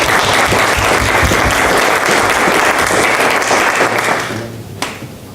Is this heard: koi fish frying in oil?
no